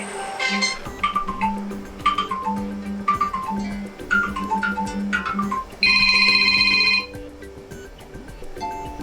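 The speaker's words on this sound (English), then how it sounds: "And these are all the ringtones that you can apply on your Motorola." Motorola Moto G8 Plus ringtones play one after another, bright melodic chimes and tones shifting in pattern, ending with a sustained buzzy electronic tone, loud and alone.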